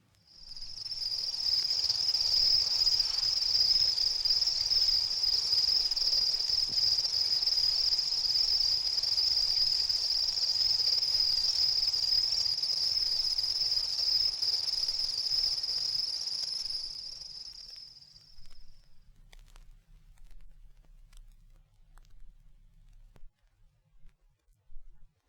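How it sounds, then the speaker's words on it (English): House crickets stridulating near a home on a warm summer day, a loud, steady, continuous high chirring that holds for about seventeen seconds and then stops abruptly, followed by quieter scattered sounds. "I sometimes hear these sounds of stridulating house crickets near my home."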